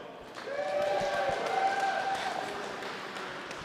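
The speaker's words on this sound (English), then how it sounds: "round of applause and some cheers if you are here cheering on Team Dunstone" Arena crowd at a curling final applauding and cheering for Team Dunstone, a sustained wash of clapping with whistles and shouted cheers rising quickly and holding, fairly loud and spread through the venue.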